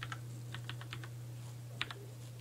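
Keystrokes on an Apple Extended Keyboard-style mechanical board clatter in a few short irregular bursts, close and crisp over a steady low electrical hum.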